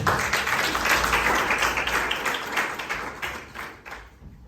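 An audience at a business masterclass applauds a volunteer, a steady wash of many hands clapping that gradually fades toward the end.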